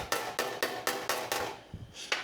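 A hammer taps a sheet metal patch panel for a 1965 Thunderbird, about eight sharp, evenly spaced blows close by, with a short pause before the last strikes.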